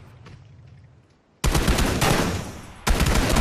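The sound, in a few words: gunfire in the video game PUBG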